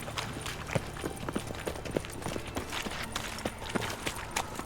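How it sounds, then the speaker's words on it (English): Horse hooves clip-clopping in The Witcher 3 on PS5, a steady, fairly quiet run of rhythmic hoofbeats with rain-like ambience beneath. "we can get our horse"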